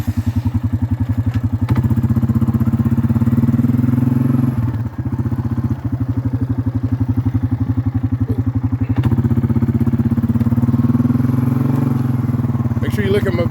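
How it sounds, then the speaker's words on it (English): A four-wheeler ATV engine fires up and runs at a steady, loud, close idle and ride, its low rhythmic throb lasting throughout with a brief dip and some clattering. There is no talk. "Let me get my 4-wheeler fired up here."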